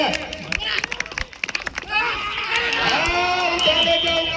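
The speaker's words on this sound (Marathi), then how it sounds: "एकदा टाळ्या वाजवा" A crowd at an outdoor kabaddi match breaks into clapping and cheering, a loud, sustained mass of applause and shouts that rises after scattered claps, with an announcer's amplified voice heard over it.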